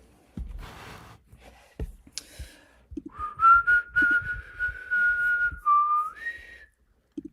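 A person whistles a short, wavering tune up close, the thin notes sliding and breaking unevenly for a few seconds, with breaths and small mouth sounds around it.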